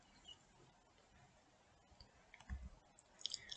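Computer mouse clicks in a school informatics lesson, a few soft, close clicks near the end over a quiet room hiss.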